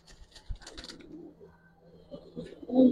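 Old-breed Giribaz pigeons coo softly close by, low throaty calls scattered among faint rustles and handling noises, with a louder coo at the end.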